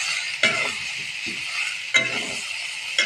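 Water lily stems hit a hot pan of fried shrimp and chili and sizzle loudly and continuously, with sharp bursts of frying and stirring, all without any talking.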